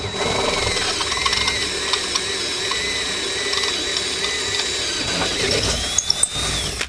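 Power driver setting 3/8 screws into pre-drilled holes in the deck of a C-Dory 22 boat during a trolling motor install, a close, steady whirring drone lasting several seconds, followed by a few sharp clicks and knocks.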